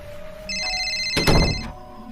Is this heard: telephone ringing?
yes